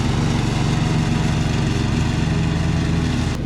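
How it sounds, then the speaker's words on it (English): A lawn tractor mower engine runs steadily and loudly nearby, a constant rumbling drone that stays level throughout, with no voices. "I said, well, it's a lawn tractor."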